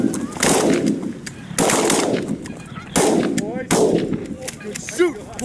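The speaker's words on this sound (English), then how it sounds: "Shoot, boys! Let's clean them up." Shotgun blasts during a goose and duck hunt in open country, four loud booming shots spaced a second or so apart, each fading into a long echo, with honking geese calling faintly between and after the shots.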